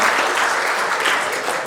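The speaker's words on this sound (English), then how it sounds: "so give that a big round of applause." A crowd applauding at a charity foundation event before a raffle, dense continuous clapping that fills the room, loud and sustained for nearly two seconds with no talk on top.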